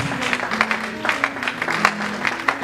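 A church congregation at an ordination service claps and cheers loudly, a dense, continuous burst of applause lasting a couple of seconds.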